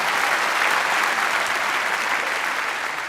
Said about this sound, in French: On peut les applaudir, messieurs, dames.